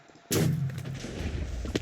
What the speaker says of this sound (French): Explosion nucléaire